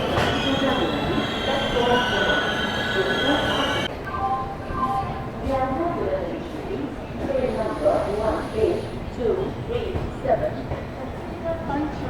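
Swarna Jayanti SF Express train rolling on the rails, with loud, sustained wheel squeal and rumble throughout and a steady roar beneath, heard close from inside the train.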